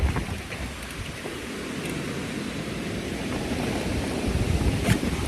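Strong wind roars steadily over a flooded farm, gusting near 50 miles per hour, a dense, unbroken rushing noise that swells slightly toward the end.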